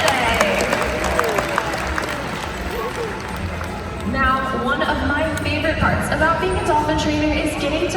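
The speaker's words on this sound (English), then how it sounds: "How about a round of applause for Bermudiana, Buchanala, Kay, and Lily for" A crowd claps and cheers at an aquarium dolphin show featuring bottlenose dolphins, a loud, dense spread of applause from a large audience while a presenter talks over a public address system.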